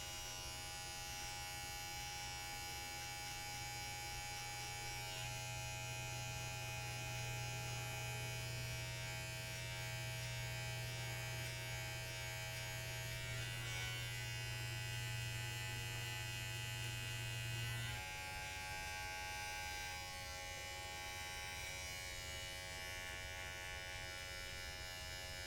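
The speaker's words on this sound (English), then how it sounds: "now I'm going to go in with my clipper no guard, lever open" A cordless electric hair clipper with no guard attached and its lever open buzzes steadily against hair during a self-administered taper fade buzz cut, a close, continuous hum that holds for most of the stretch before switching off.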